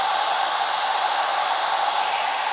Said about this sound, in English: so we need to blow dry this